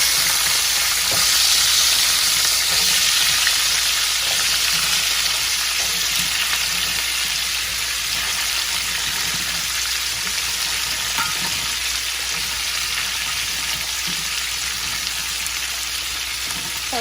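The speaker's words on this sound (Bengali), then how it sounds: "আমি এখানে আলু আর সিমগুলো হালকা ভেজে নেব।" Potatoes and flat beans fry lightly in a pan, a dense, loud, continuous sizzle with faint stirring scrapes and occasional pops, close up with no talking.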